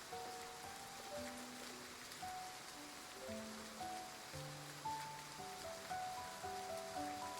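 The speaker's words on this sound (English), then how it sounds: "As raindrops suddenly fall" Rain falls steadily in the video game Love and Deepspace, a soft, even patter beneath gentle sustained musical tones, fairly quiet and without speech.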